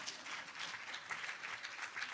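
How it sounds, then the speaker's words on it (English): Audience applause fills a conference hall at a women's leadership forum: steady, dense clapping from a crowd that holds at an even level for a couple of seconds, with no voices on top. "You can clap for that."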